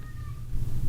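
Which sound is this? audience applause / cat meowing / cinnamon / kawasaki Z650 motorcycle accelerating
cat meowing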